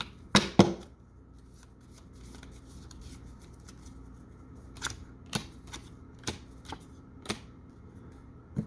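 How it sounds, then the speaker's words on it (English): A tarot card deck is shuffled by hand nearby. A brief burst of riffling is followed by scattered soft, crisp card taps and flicks, faint and close in a quiet room. "So I'm just going to shuffle them here for a second"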